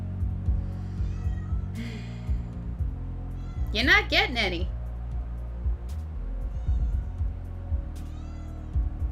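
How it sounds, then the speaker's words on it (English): A cat meows in a rising, wavering cry in the middle, close and loud, while a person talks over a low background hum. "And that's my cat."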